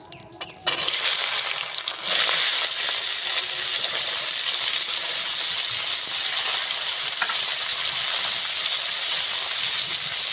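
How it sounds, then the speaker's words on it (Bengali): Chopped yardlong beans and carrots hit hot mustard oil with a sudden loud sizzle, then keep frying in a steady, bright crackling hiss close up. "তেলটা গরম হয়ে গেছে, এই যে কেটে রাখা বরবটি আর গাজরটা আমি ভেজে নেবো"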